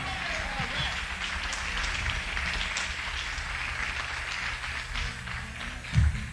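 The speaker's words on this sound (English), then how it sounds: "I think she deserves another round of applause" Live concert audience at Caesars Atlantic City in 1982 applauding a young singer, a steady wash of clapping from a large crowd that holds evenly throughout, with a brief low thump near the end.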